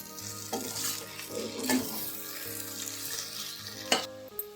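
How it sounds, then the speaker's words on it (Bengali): Papaya ghonto curry with slit green chillies stirred in a pan, with a soft continuous sizzle under scraping strokes and a few sharp utensil clinks against the metal, near and moderately quiet. "এখন আমি এটা নাড়িয়ে নেব।"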